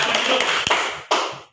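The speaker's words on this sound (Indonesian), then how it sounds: "Tepuk tangan dulu." Children in an Indonesian classroom clap their hands together, a soft patter of brief taps with two sharper claps standing out, heard at moderate distance with no talking.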